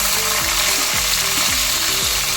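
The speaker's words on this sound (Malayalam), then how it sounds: "വെണ്ടയ്ക്കയും തക്കാളി ഞാൻ സെപ്പറേറ്റ് ഇതുപോലെ വഴറ്റുമ്പോഴാണ് ചേർക്കുന്നത്" Okra and tomatoes sautéing with curry leaves in oil for sambar, a loud continuous sizzle with a low repeating mechanical whir underneath.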